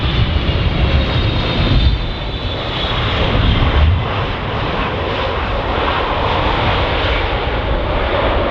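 An Emirates airliner landing on runway 10 left at Dublin Airport, its engines giving a steady, loud roar that rumbles continuously throughout with no voices.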